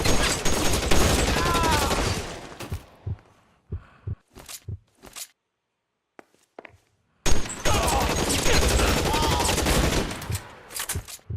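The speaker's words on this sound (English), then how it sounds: "Officers need help at 1452 North Las Palmas. Shots fired." Gunfire in the video game L.A. Noire, a dense burst of shots for about three seconds, then a few scattered single shots and a near-silent gap, then another long loud volley.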